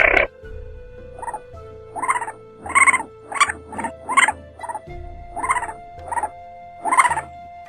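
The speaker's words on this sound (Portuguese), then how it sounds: "Isso ali é um compsognato, que no grego quer dizer mandíbula elegante." A cartoon compsognathus dinosaur lets out a series of about ten short, croaky, frog-like calls in a bouncy rhythm, close and fairly loud over sustained background music tones.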